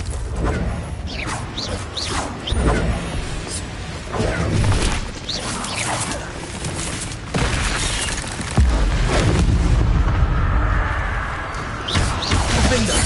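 Confringo blast spells from Hogwarts Legacy go off repeatedly in loud, booming bursts amid dense, continuous game combat noise, with whooshes and crashes layered through and a heavier rumbling stretch near the end.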